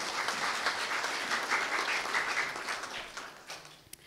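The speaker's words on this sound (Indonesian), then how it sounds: "Tepuk tangan dulu buat beliau." A ceremony audience at a computer science faculty's judicium and oath-taking applauds, producing a soft, distant, steady wash of many hands clapping that tapers off toward the end.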